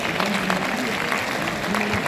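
A ceremony audience applauds steadily throughout, a dense wash of clapping with a voice faintly audible beneath it.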